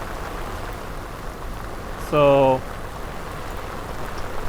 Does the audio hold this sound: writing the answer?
no